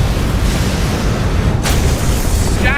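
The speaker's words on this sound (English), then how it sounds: "Massive secondary explosions." Massive secondary explosions in a sci-fi space battle roar as a dense, continuous rumble with heavy low-end boom, with one sharp burst cracking through midway.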